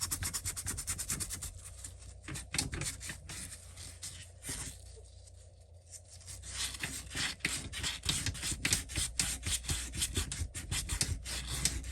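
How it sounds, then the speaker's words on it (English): A hand file rubs back and forth across a gearbox part during a gearbox check, giving a steady run of close, rasping scrape strokes in a quick, fairly even rhythm. "So I can't feel anything high on it with the file there. It all feels good, so we'll just give it a little bit of a rub."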